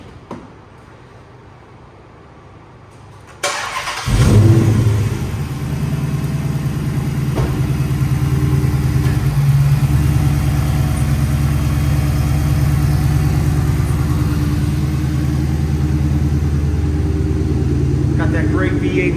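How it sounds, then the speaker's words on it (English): A 2007 Dodge Magnum SRT8 V8 with an SLP catback exhaust cranks and fires after a quiet stretch, revs briefly, then settles into a deep, loud, steady rumbling idle close by. "That great V8 rumble sound, especially with that SLP catback on it now."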